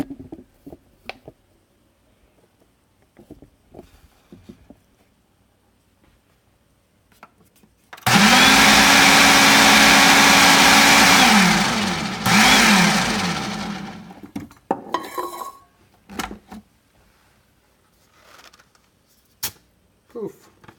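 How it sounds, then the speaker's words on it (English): Coffee whizzing in a blender: a loud, steady motor whine that starts abruptly, runs for several seconds, dips briefly in pitch, then cuts off, with a person talking quietly before and after. "So to pop it in a blender, to pop it into one of these bad boys, just give it a quick zap"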